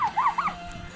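A dog whimpers and yips in short high whining bursts at close range, a few rising and falling cries within about a second.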